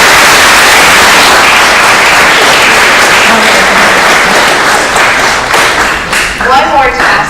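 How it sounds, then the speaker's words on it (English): A graduation audience at a vocational training center applauds the graduates' parents, loud dense clapping filling the room and then thinning into scattered claps near the end. "graduates, if you would please give a round of applause to your parents"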